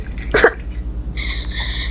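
A person gives one short, abrupt burp close to the microphone, followed by quieter background noise and faint higher tones.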